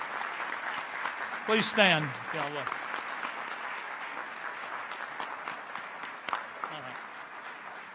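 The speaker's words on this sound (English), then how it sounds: "lead a round of warm applause for the entire Board of Administrators at Tulane" An audience at a university press conference gives sustained applause for a board of administrators, with the clapping continuing under a speaker's voice.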